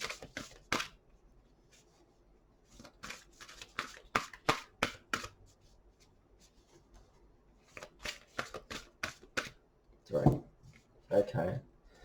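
Quick bursts of tarot cards being shuffled, several separate riffles with pauses between, close by, with a voice speaking briefly in between.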